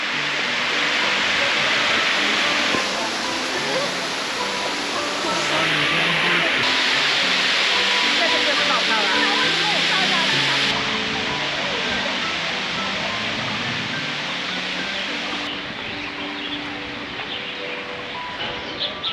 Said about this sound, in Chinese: 小隐潭瀑布